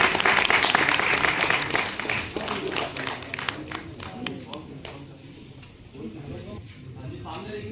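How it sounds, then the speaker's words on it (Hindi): Audience applause at a Hindi poetry gathering, loud dense clapping at the start that thins out and fades over several seconds, ending in scattered claps with faint voices underneath. "जोरदार ताली बजाते रहिए।"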